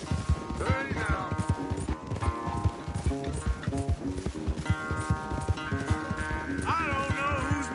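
A horse gallops in a race in the video game Red Dead Redemption 2, with rapid rhythmic hoofbeats throughout, close and steady, beneath music and occasional speech.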